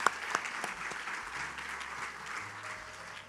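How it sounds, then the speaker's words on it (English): Audience applause at a UNA Athletics Hall of Fame induction ceremony, a short spread of clapping that starts with a few sharp claps and then settles into a soft, distant patter. "Let's give him a round of applause"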